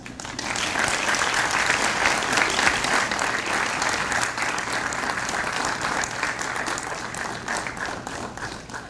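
Dental school graduates at a commencement ceremony, standing and facing the audience, clap in thanks with sustained, dense applause that stays loud and steady throughout.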